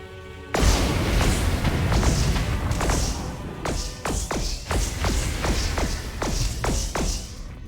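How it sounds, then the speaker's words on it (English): Repeated missile launches in the space combat game Star Hammer: The Vanguard Prophecy, loud booming blasts and sharp cracks coming in an uneven rapid series over a dense rumbling bed, with no talk. "fire another missile at this one"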